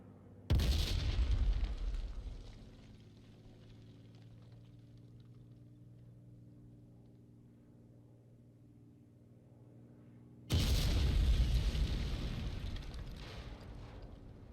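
Two heavy bomb blasts boom in the IL-2 Great Battles flight combat game, about ten seconds apart, each a loud crash with a rumbling tail, while a steady low aircraft engine drone hums between them.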